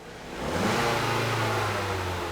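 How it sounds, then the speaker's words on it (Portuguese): A car engine revs hard as the accelerator is pressed, a steady rising mid-pitched roar that swells within half a second and holds loud and close, with no voices, while the engine warms up during a titanium lambda sensor test. "vou pedir para ela dar apenas uma acelerada no motor"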